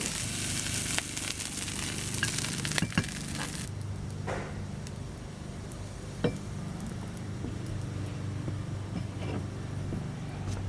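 Chinese pork sausage browns in a pan for fried rice, a loud sizzling crackle with a few sharp clinks of a utensil early on, then settling into a softer, steady fry.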